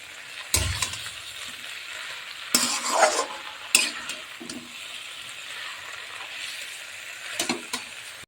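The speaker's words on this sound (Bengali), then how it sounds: "ডিমের আলু কষছে আর এই পাশে বসিয়ে দেওয়া হয়েছে শাক মাই বসিয়ে দিয়ে গেছে আমি জাস্ট নাড়ছি এটা" Potatoes for an egg curry fry in a pan, with a soft continuous sizzle broken by several sharp scraping stirs of a spatula and a few clanks of the pan, and no talk.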